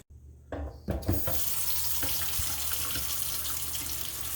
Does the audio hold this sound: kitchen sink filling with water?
yes